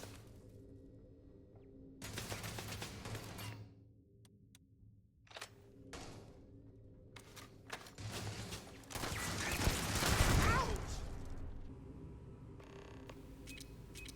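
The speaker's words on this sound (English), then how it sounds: "A machine gun turret surprises us." A machine gun turret fires in the sci-fi video game Starfield, sending scattered bursts of sharp, rapid shots that rise to a louder, denser volley near the middle, with quieter gaps between them.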